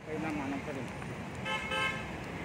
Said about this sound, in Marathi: किती हॉर्न वाजवतात लोक